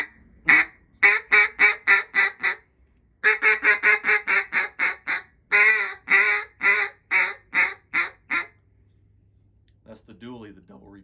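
Rapid series of loud duck quacks from a reed call, short bursts in quick rhythmic runs with brief pauses, then a faint trailing quack at the end.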